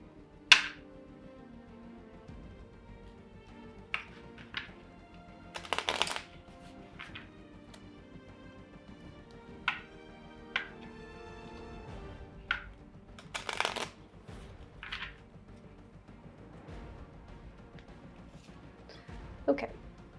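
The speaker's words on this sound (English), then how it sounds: "Oops, I need to shuffle these." Playing cards being shuffled during a solo tabletop session of the Victorian-themed board game Botany, in a run of quick papery riffle bursts separated by quiet pauses, close to the microphone with only faint background sound.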